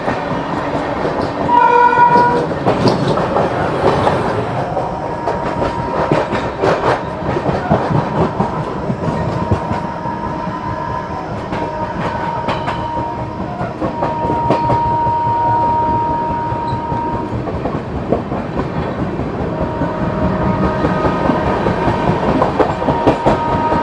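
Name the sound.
Kacheguda–Bhagat Ki Kothi Express train overtaking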